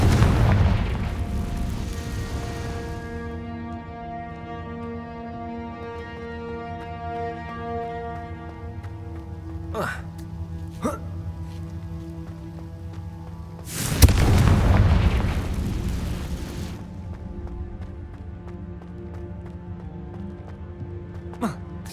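Confringo spell explosions from the Hogwarts Legacy video game: a deep boom opens the clip, sustained tonal game music and effects run beneath, and a second loud burst lands partway through.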